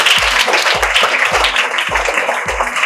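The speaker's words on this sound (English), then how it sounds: "Clap for Satish" Audience clapping during a felicitation ceremony, a dense round of hands with a steady low thumping beat underneath, moderately loud throughout.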